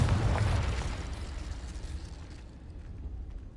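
A Confringo fire spell exploding in Hogwarts Legacy, a dull booming blast that starts strong and decays over a few seconds into a rumbling tail.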